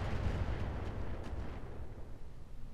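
Missile barrage explosions from the mech combat game Roguetech, a dense, continuous rumble of overlapping low blasts that stays loud and heavy throughout with no distinct gaps.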